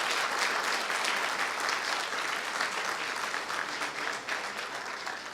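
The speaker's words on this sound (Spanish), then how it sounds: "Un gran aplauso para Marco Romero" Large audience applause for Marco Romero at a human rights award event, a sustained, loud, even clapping that tapers slightly toward the end.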